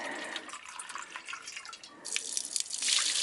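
Water being poured and sloshed while rinsing a cup out with purified drinking water outdoors, a steady close trickling and splashing that grows louder and fuller toward the end, with no talking.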